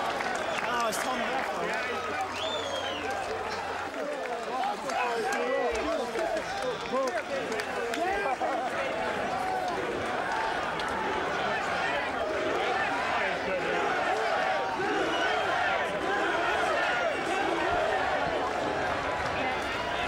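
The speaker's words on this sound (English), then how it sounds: "The chants of USA from the crowd here celebrating Jeff Lacy's victory" The crowd at an IBF super middleweight world title boxing bout chants and cheers rhythmically, a loud, steady roar with a commentator talking over it throughout.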